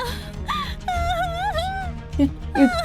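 A young girl's crying wails out from inside a closed cupboard as a horror film effect, rising and falling in drawn-out moans with brief sobbing catches, fairly close and alone.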